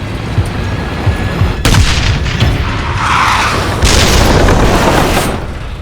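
A rocket fired at the turret of a T-54 tank in a war battle, heavy booming blasts and bursts, loud and close, with a sharp explosive hit followed by rumbling, echoing detonations.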